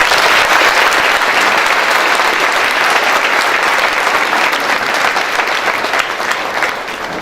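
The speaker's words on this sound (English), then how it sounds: "Let's give your children a huge round of applause." Parents in the audience applaud children at a preprimary school annual day, producing a loud, dense, continuous wash of clapping that holds steady and eases slightly toward the end.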